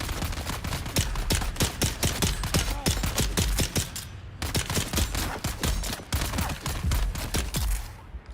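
Rapid automatic gunfire rattles from a video game in two long, dense bursts of closely spaced loud shots separated by a short pause, with no voices over it.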